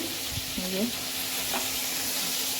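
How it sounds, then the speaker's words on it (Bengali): Lotia fish frying in a pan, a steady hiss of sizzling oil with a few faint clinks and a short tonal sound over it. "লাইটিয়া মাছ নিয়ে এসছে মাছটা আমি ভেজে নিচ্ছি"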